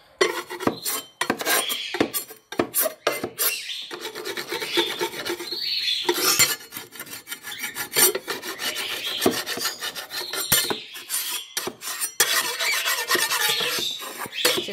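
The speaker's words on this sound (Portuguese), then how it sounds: "Vou pegar minha espátula, tá? Vou raspar o ninho inteiro." A metal spatula scraping dirt from a bird nest, with repeated rough rasping strokes in quick irregular succession, close and fairly loud, and no talking.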